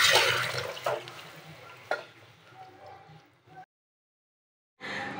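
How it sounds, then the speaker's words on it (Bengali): Fish washed by hand in water, with splashing and sloshing close up, a few louder slaps, then a brief silence before more water noise resumes. "এই মাছটা ধুয়ে নিই।"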